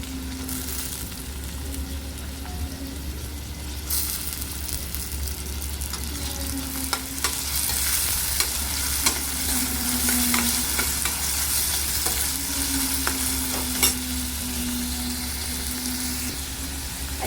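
Onion and tomato frying in a pan for a spicy ivy gourd curry: a steady, close sizzle with repeated scraping stirs and light clicks of the spatula throughout, no talking.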